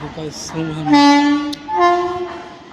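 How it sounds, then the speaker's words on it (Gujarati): A train sounds its horn in long, tonal blasts as it arrives at Patan railway station, loud and close, with brief background voices around it. "હવે થોડીક ક્ષણોમાં આપણી હવે ટ્રેન આવવાની છે"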